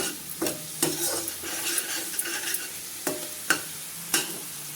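Tomato puree fries with an onion, ginger, garlic and chili paste for mixed vegetables, a close sizzle broken by several sharp scrapes and knocks of a spoon stirring against the pan.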